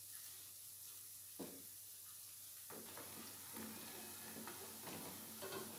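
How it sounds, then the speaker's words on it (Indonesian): Faint, steady sizzling of food frying in hot oil, with occasional soft crackles and light clinks rising above the hiss. "Kemudian, kita goreng sampai matang dengan menggunakan api sedang."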